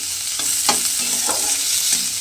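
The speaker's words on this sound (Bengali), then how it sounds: "পেঁয়াজটাকে আমি এখানে খুব ভালোভাবে ভেজে নেব" Onions fry in hot oil with a constant close sizzle, broken by several scraping stirs of a spatula at uneven intervals, with no talking.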